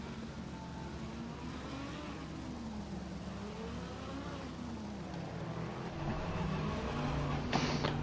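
Race cars warm their tyres on the Barcelona track in a racing video game, engines droning and shifting pitch as they rev and accelerate, with a louder burst near the end.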